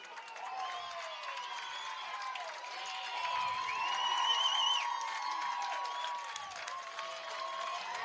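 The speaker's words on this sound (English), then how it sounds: "the away crowd cheering. You can hear it very well from our angle." At a college football game against Endicott College, the visiting crowd cheers with a broad, distant roar that swells in the middle and then eases off, mixed with whistles and a few scattered claps, with no one speaking.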